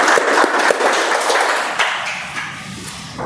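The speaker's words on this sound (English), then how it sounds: "Let's give a round of applause to Toastmaster Konda." Applause from a Toastmasters meeting audience, dense patter of many hands clapping at first, then thinning and fading toward the end, with a few sharper individual claps standing out.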